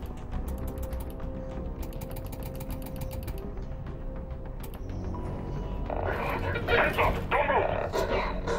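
Dog barking inside the Half-Life: Alyx game world, mixed with clanking mechanical ratchet-like noises and game sounds, growing louder and busier toward the end while a player talks over it.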